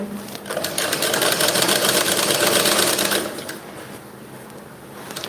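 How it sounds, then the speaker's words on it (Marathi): A sewing machine stitches a thin round piping strip in a tailoring workshop: a fast, close, rhythmic mechanical whirr running steadily for about three seconds, then easing into a quieter hum. "ही पट्टी अशी ठेवून आपल्याला जशी आहे तशी आपण ही शिवून घ्यायची"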